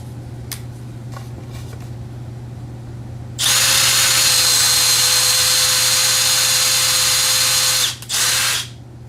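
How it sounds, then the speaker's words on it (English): A power drill countersinking a hole whirs at a steady high pitch for about four and a half seconds, briefly dips, then revs again before stopping, preceded by a few light handling clicks. "Very inefficient way to countersink, but gets the job done."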